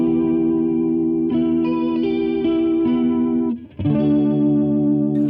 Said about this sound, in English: It still sounds like a chorus to me, but just more of an extreme kind of rate and depth.